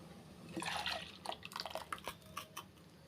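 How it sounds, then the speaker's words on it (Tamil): Jaggery syrup poured and dripping into a pan, a thin trickle followed by scattered drips and small splashes, fairly quiet. "இப்போ இந்த நாட்டு சக்கரை தண்ணியும் சேர்த்துக்கலாம்"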